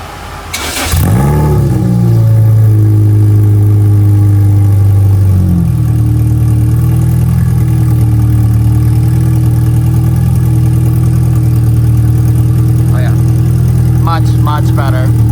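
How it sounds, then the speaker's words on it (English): A 2006 Lotus Elise cold-starts with a brief cranking burst, then settles into a steady, loud idle whose pitch drops slightly a few seconds in and holds for the rest. "we're gonna go ahead and just give her a cold start,"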